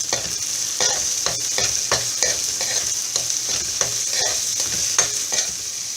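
Onions sauté in a big pan with a steady loud sizzle, broken by repeated scraping and clinking strokes of a spoon stirring them.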